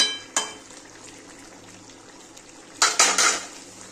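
Chicken kosha being stirred in a pot, a spoon scraping and knocking against metal in a few sharp bursts over a faint sizzling simmer, close by with no talking.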